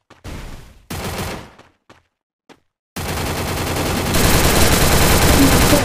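Bursts of rapid automatic gunfire in the game Free Fire, first in short separated volleys, then a sustained loud stream of shots that grows heavier near the end, with no talk.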